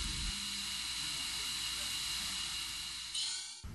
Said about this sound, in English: The P20 CNC automatically rough grinds from blank knife to finished knife.